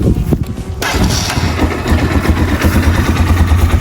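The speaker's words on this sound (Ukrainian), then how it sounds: "Тут немає кікстартеру, заводиться тільки з кнопки." A Geon X-Road 200 motorcycle fires up on its electric starter button after a brief crank, then settles straight into a loud, close, steady engine run.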